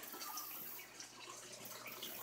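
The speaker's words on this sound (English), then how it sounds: "And then the water runs over here to the second Aquaponics tank." Water flows through the drain pipes of an aquaponics system into a second tank, a steady close-up gush and trickle with no pauses and no voices.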